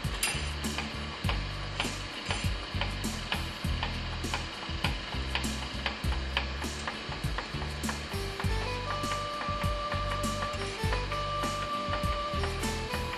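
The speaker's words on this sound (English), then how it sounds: "Start the pump." A ProMus diaphragm metering pump runs at 20% stroke with a steady, rapid mechanical clicking and whirring rhythm, joined later by faint tonal beeps, with no talking.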